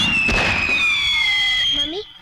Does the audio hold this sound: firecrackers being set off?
yes